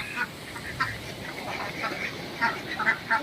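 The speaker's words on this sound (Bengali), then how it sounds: "বাকিগুলো সব ঢুকে গেছে, কিন্তু একটা হাঁস বাইরে রয়ে গেছে" A duck left outside its coop in a rural home yard quacks in several short, bright calls spread irregularly through the clip, fairly close, over a quiet outdoor background.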